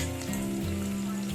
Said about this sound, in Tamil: புளிக்குழம்புக்கு வந்து வெங்காயம் பூண்டு வதக்கிட்டு இருக்கேன்